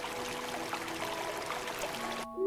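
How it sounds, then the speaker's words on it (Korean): A gentle creek babbles softly and steadily, a continuous watery trickle layered under quiet sustained tones, cutting off abruptly just before the end. "졸졸 흐르는 물소리가 들리니"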